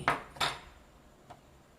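A homemade salad roll filled with crab sticks is sliced on a board, with two quick, crisp cuts close by, then a fainter tap, and no talking.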